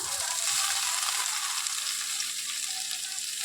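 Taro stolons frying in hot oil with garlic give off a steady, bright sizzle close by, even and continuous with no voices.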